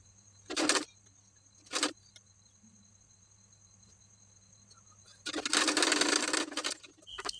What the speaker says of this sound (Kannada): ಈಗ ಇನ್ನೊಂದು ಸೈಡ್ ನೆಕ್ಕಿಗೆ ನೆಕ್ ಪಟ್ಟಿ ಹಚ್ಚಿ ಸ್ಟಿಚ್ ಮಾಡ್ತಾ ಇದ್ದೀನಿ